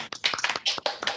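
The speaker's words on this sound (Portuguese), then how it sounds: "Bate palmas para a professora." A few people clap for a professor at the end of an online research group meeting, producing sparse, close, uneven claps over about a second, heard through thin call audio.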